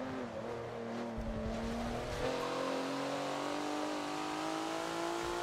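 A Porsche Macan races at Hockenheimring in Forza, its engine droning and revving steadily with tire noise and a brief gear change early on, other cars nearby, with no talk.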